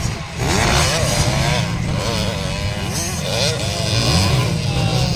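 Motorcycle race pitting a 450cc bike against a 150cc bike: a loud, continuous engine roar and drone fills the scene, nearby and steady, while a voice talks excitedly over it.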